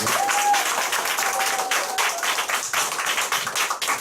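Audience applause at a group business meeting, dense clapping that fills the room steadily from start to finish, with a brief tone near the start.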